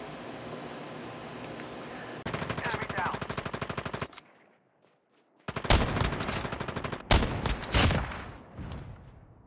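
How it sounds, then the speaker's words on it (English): Gunfire from a sniper rifle in the video game Call of Duty Mobile is heard. A dense, rattling stretch of rapid shots stops in a short silence, then loud, sharp bursts and cracks follow in close succession. "And me with a sniper rifle, I had to take him down."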